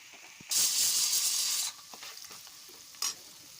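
Onions frying in a pan with salt as turmeric is added, a loud burst of hiss and sizzle for about a second, then quieter stirring scrapes and a short final sizzle, close up.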